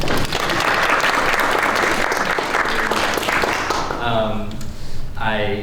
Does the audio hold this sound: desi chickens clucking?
no